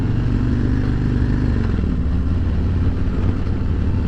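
A 2023 Harley-Davidson Road Glide Special with a 114 cubic-inch engine pulls away from a stop, its loud, deep, lumpy V-twin rumble steady and close throughout.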